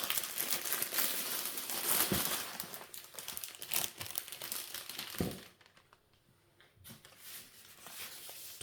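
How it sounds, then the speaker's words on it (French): Protective paper crinkles and rustles close up as a diamond painting canvas is unboxed, with repeated crumpling handling noises, a short quiet pause, then more soft crinkling. "Donc papier de protection."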